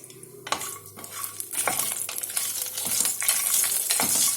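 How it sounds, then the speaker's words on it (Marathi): Cardamom pods, bay leaf and cashews sautéing in a pan for peas pulao: a soft sizzle under repeated scrapes and clinks of a spoon stirring against metal, close and busy throughout. "छोटी विलायची फोडून टाकायचं यांना, तेजपान आणि सोबत काजू याला छान परतून घ्यायचं"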